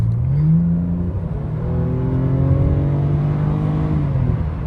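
Car cruising through a downtown area late at night, a steady engine drone with gear-change pitch sweeps and light acceleration, close and continuous with no talking.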